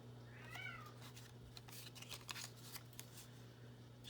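A pet cat gives a single short, faint meow near the start, followed by soft rustling and scraping handling noises over a steady low hum in a quiet room.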